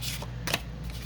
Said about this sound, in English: It's got that perforated line at the top, so I'm just going to cut that off.